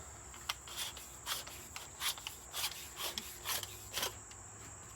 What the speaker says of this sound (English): unscrew the body